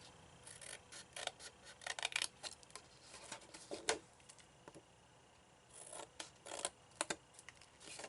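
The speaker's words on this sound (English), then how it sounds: "I'm going to come in here with my scissors and trim a small wedge off" Scissors snip a small wedge from a paper tab on a Valentine's cookie and candy box, giving quiet, close crisp cuts and rustles in irregular bursts with short pauses and no talking.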